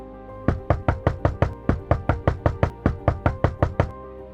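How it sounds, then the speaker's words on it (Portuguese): Loud, insistent banging on a door, about sixteen sharp, evenly spaced knocks in a rapid rhythm, close and alone against a quiet background. "um estrondo na porta o fez despertar da sua introspecção"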